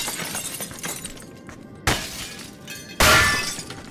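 Video game window glass breaks in two sharp, loud crashes about a second apart, each trailing into bright scattering shards over a low, noisy background, with no voices.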